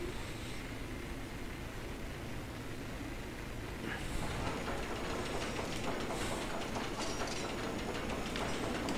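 A roller coaster train in RollerCoaster Tycoon 3 runs along its track after a mid-course section, giving a steady rumbling roar with faint rhythmic clacking that stays level throughout, no talk.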